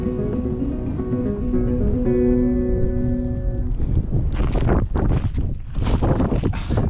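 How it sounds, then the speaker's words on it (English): Strong headwind buffets the microphone while cycling, building into rough, booming gusts that swell and fade in the second half over a steady background rush. "Incredible headwind."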